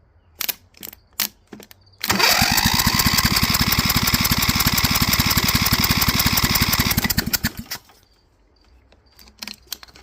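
A Cub Cadet 2165 lawn tractor's starter motor cranks the engine for about five seconds in one loud, rapid, steady chug, then winds down, with scattered light clicks and handling clatter before and after.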